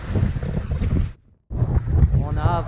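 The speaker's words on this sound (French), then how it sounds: "Et il y a toujours du vent" Strong 20–22 knot wind buffets the microphone on a Dufour 375 GL sailboat sailing close-hauled at sea, a roaring gust that drops out briefly before surging back.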